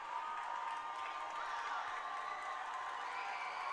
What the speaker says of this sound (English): And the Adrian crowd getting loud